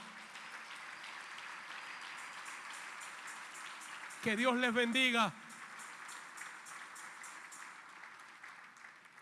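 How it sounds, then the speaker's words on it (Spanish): A congregation applauds at a church service in a steady, moderately distant patter, broken midway by a brief spoken blessing from a voice before the clapping carries on. "Denle un aplauso al Señor"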